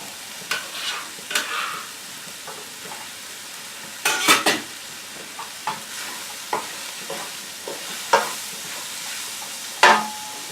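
Peppers for chicken tikka masala hit a hot pan, giving a steady sizzle broken by repeated stirring scrapes and sharp bursts of crackling, close and fairly loud with no voices.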